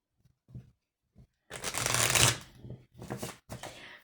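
A deck of oracle cards is shuffled and cut by hand, with soft scattered taps followed by a long papery riffle and two shorter bursts, close and without talk.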